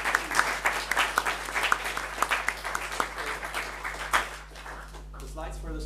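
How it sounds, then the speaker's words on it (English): An audience at a programming conference talk applauds steadily for several seconds before it tapers off, and a speaker's voice comes in near the end. "Another round of applause for Franz Thoma."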